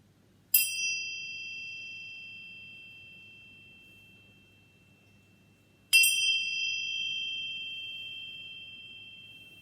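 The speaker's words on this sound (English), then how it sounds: "I'm just going to begin with clearing our energy with these chimes." Chimes struck twice about five seconds apart, each a bright, clear ring that decays slowly into a long, fading shimmer in an otherwise quiet room with no talking.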